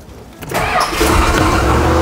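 The V8 engine of a Chrysler New Yorker 75 cranks briefly, then catches and settles into a loud, close, rumbling idle.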